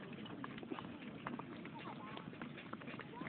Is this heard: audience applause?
no